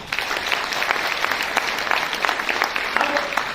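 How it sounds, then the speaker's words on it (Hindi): Audience applause at a Modicare business meeting, many hands clapping in a brisk, uneven patter at steady volume, with no speech during it. "एक बार ताली बजा दीजिए अपने लिए।"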